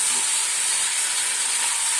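Chicken meat cooking in a pan while being stirred gives a steady, close, bright hiss of sizzling that holds evenly for two seconds, with no distinct spoon strokes standing out and no voices.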